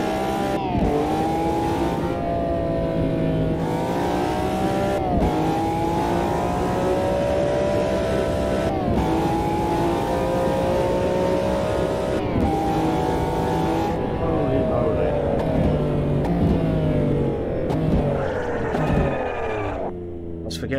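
A street car's engine in Automobilista 2 at Monza drones steadily and loud, its pitch rising and falling through gear changes and revs across the whole stretch, with brief dips between shifts.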